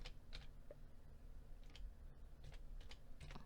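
Quiet, close computer keyboard typing during accounting software data entry, a string of light scattered keystrokes with irregular spacing over a faint background hum, no voices.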